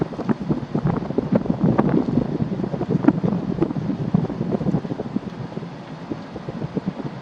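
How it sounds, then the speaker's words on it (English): Cold November wind blows in off a lake at a campground, giving a steady, loud buffeting rumble across the microphone with no pauses and no talk. "the wind off the lake is pretty cold"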